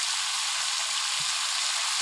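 Malabar spinach and potatoes fry in a pan over a leaf-fuelled fire, giving a dense, even sizzle that holds steady for a couple of seconds, close and alone.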